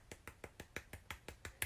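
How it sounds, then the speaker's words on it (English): Soft, even clapping at a children's yoga circle time, about ten light sharp claps in a steady rhythm, close and quiet with nothing else around them. "And then he heard someone clapping softly like this."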